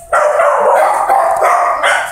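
A beagle hunting dog at an animal shelter bay-howling in a long, loud, close sustained bark that wavers in pitch, breaking briefly before resuming, with no one talking.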